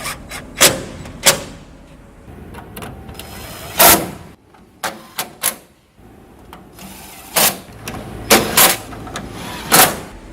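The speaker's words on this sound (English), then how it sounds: "I'm just gonna fasten all of them now." Screws driven through interior panel brackets, a series of short, loud whirring bursts from a power driver spaced irregularly, with quieter handling noises in between.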